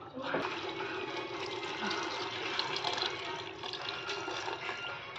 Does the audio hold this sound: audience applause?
no